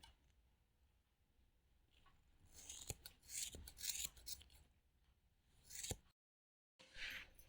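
Steel scissors snip through woolen yarn while a knitted cap with a neck muffler and mask is being finished, giving a few close, crisp cuts with soft rubbing between them and a brief silent gap near the end.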